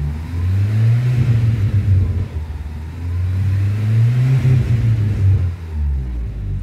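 A GM Astra engine with a slow-starting fault revs up twice in two swelling, throaty surges, close and loud, with no talking.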